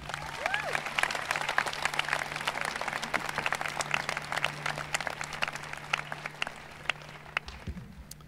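Sustained audience applause fills a convocation hall, dense and steady for several seconds before thinning out near the end, with a low steady hum underneath.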